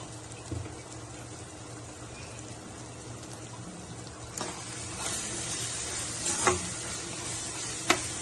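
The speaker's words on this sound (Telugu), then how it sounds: "మనం ఫ్రై కదా చేసుకుంటుంది. ఇందాక నూనె ఆయిల్ తోనే రొయ్యలో నుంచి వచ్చే వాటర్ తో రొయ్యి ఎక్కడ కూడా పచ్చి వాసన అనేది లేకుండా మంచిగా మగ్గిద్ది" Prawns fry in oil with ground coriander, cumin and masala powder, making a low continuous sizzle with a few sharp stirring scrapes of a spoon against the pan near the end.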